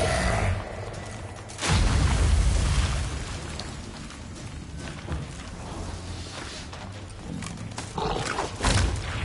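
A fire spell blast in The Witcher 3: Hearts of Stone: a sudden loud blast with a booming rumble that slowly fades, followed later by smaller crackling bursts.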